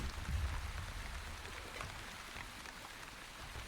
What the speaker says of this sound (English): Light rain. Beautiful,